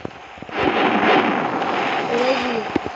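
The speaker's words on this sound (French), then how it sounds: "Je vais tirer avec le canon." A cannon fires in a Roblox pirate game, giving a sustained booming burst of noise with a few sharp cracks around it.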